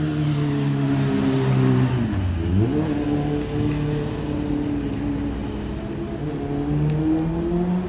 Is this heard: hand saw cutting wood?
no